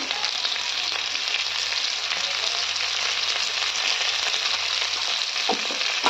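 Potatoes sizzle steadily in hot oil in a pan, a constant, fairly quiet frying hiss with a faint low hum underneath and a couple of soft clinks near the end.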